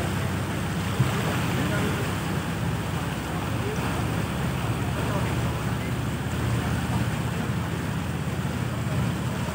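Rainwater rushing across the national highway at Pedapadu, Srikakulam, surging like sea waves, heard as a steady, dense wash of flowing water that runs unbroken and fairly close, with faint wind buffeting the microphone.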